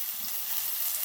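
Thinly sliced onions fry in oil in a kadai for Andhra-style bendakaya curry, a brief close, steady hissing sizzle with no voices.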